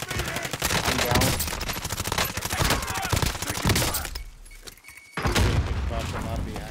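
Gunfire fills a first-person shooter match, dense bursts of automatic shots and sharp single cracks, close and loud, dropping briefly before firing resumes hard; a voice talks over parts of it.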